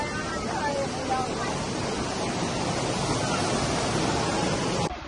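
A waterfall at Gu Long Xia in Qingyuan, Guangdong, pours in a dense, steady roar of rushing water, close and constant, cut off abruptly at the end.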